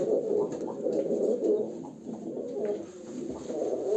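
Tumbler pigeons coo continuously nearby, several low throaty calls overlapping in a soft rolling murmur.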